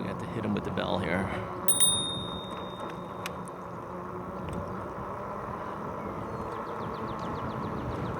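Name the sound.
bicycle bell rung on a RadRover 5 e-bike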